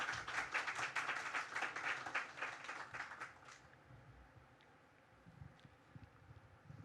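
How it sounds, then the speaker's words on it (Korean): An audience at a Korean panel discussion on addiction claps to welcome a speaker, a few seconds of scattered indoor applause that fades away, leaving quiet room tone with faint rustles. "예, 박수로 맞아주십시오."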